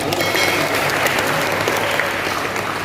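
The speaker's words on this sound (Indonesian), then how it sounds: "Beri tepuk tangan untuk gimana?" Steady applause from a seated audience at an Indonesian motivational talk, dense clapping holding at an even level throughout the short stretch with faint background murmur.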